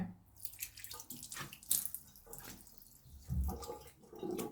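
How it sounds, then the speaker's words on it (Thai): Tap water running into a sink during face washing, splashing and trickling unevenly with bursts of louder flow and quieter drips, close by and alone. "จะขอเริ่มการล้างหน้าก่อนเลยนะ"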